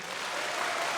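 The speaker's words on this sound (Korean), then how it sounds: "아주 큰 박수 한번 부탁드립니다" Adults in the audience at a youth symphony orchestra's narrated concert applaud in a brief, broad wash of clapping, steady and fairly soft for about a second.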